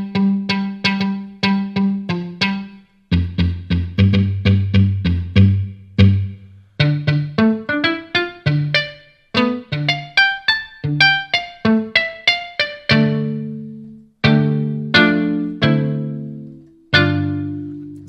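Muted thumb-picked guitar from the Westwood Instruments Novella sample library plays short, dry, percussive notes and chord stabs in bursts with brief pauses between phrases, alone and close.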